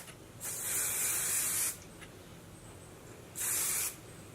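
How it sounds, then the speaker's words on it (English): Two bursts of Marc Anthony dry shampoo aerosol spray hiss close by onto hair, a longer one over a second and a shorter one after a pause, with quiet between. "So spray onto hair from roots to ends, lightly brush through in between washes."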